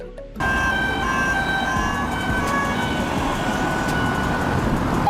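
A Spanish police car siren starts abruptly and holds a loud, steady electronic tone with a slight wavering pitch, close by with road noise underneath and no voices.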